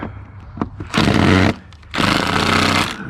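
A battery-powered impact tool works a bolt loose in two loud close bursts of rattling hammering, split by a short pause, with no talk.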